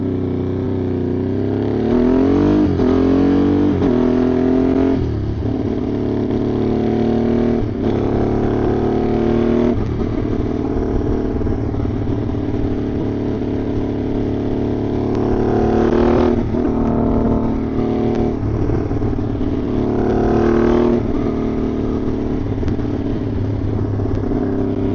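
A Honda Grom motorcycle fitted with a swapped Ducati 1199 Panigale engine and an Arrow exhaust roars loud and close throughout, revs climbing and dropping in repeated surges with no talk over it.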